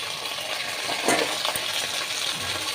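Mutton goes into browned onions frying in a little oil, giving a dense, steady sizzle with a faint swell and a light clatter as the meat hits the pan.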